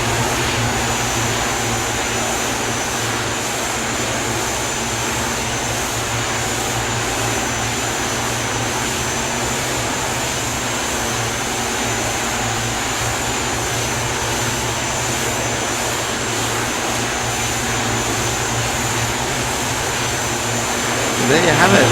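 A de Havilland Twin Otter, the Aerosoft Twin Otter Extended, in the Prepar3d flight simulator game, holds a loud, steady turboprop engine drone with a high whine through its takeoff run, rising slightly at the end.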